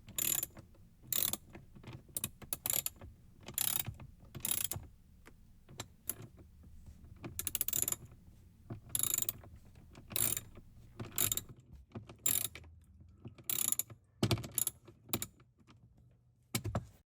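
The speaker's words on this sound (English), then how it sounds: "now we have the 3 T20 Torx screws inside the glove box. And we'll tighten those down" Three T20 Torx screws are tightened inside a car's glove box, likely an Alfa Romeo Giulia or Stelvio, with repeated close ratcheting bursts of clicks in short rhythmic spurts separated by brief pauses.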